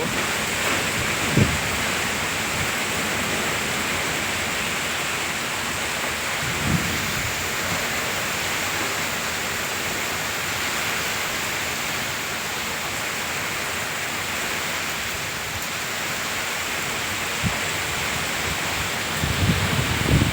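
Heavy rain pours steadily outdoors on a farm during a storm, a dense continuous hiss with a few low thumps of distant thunder rumbling underneath, no voices.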